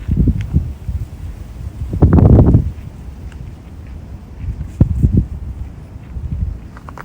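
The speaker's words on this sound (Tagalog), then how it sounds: "Ano man lakas ang hangin." Strong gusts on the Lion Rock hiking trail near Shatin Pass buffet the microphone in low rumbling bursts, with a heavy gust in the middle and shorter thumps later, plus faint rustling.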